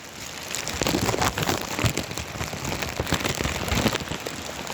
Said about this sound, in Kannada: ಜೋರಾಗಿ ಮಳೆ ಬರ್ತಿದೆ